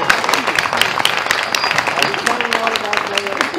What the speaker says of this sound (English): we might just put our hands together in a round of applause for Des Cullen on his birthday